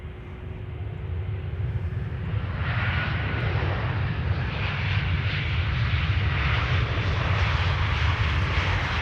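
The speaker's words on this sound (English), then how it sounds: "ITA, flight 108, arrival from Rome," An ITA Airways jet, flight 108 from Rome, lands at Schiphol's Polderbaan runway; a low rumbling roar swells after a couple of seconds into fuller, louder engine noise that stays steady, with no voices.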